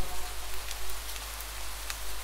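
Raindrops patter on window glass in a quiet room, a soft, continuous hiss of rain with a few slightly sharper drops standing out, faint and steady with no voices.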